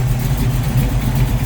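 A 1969 Ford Mustang Fastback Mach 1 tribute idles steadily up close with a deep, low rumble, its even engine pulse holding on without any talk.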